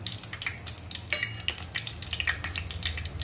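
Cinnamon, cloves, black pepper and a wet bay leaf sputtering in hot oil while an Agri-style mutton dish is cooked, a steady crackling sizzle with frequent small pops close by.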